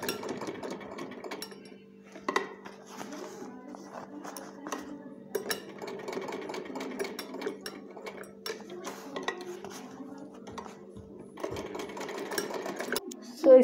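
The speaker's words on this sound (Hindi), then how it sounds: "मशीन से इस जगह को इस तरह से सिल सकते हैं" Sewing machine stitching a fabric pencil pouch in quick rattling bursts, stopping and restarting several times up close, with small clinks and handling noises between runs.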